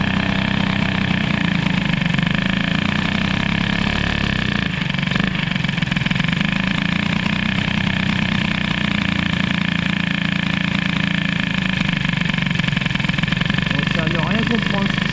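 A Peugeot 103 moped with an Airsal 65 kit idles with a lean mixture, a steady buzzing drone that holds evenly throughout while a person talks over it.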